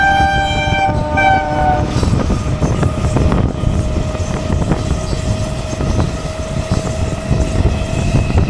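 The Sealdah-Puri Duronto Express passes at Dum Dum Junction: a loud, close horn blast opens, then a continuous heavy rumble and wheel clatter roll on as the train runs by.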